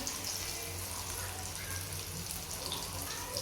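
Running water splashes steadily into a sink while dishes are rinsed at home, a continuous soft wash of tap flow with faint clatter, fairly quiet throughout.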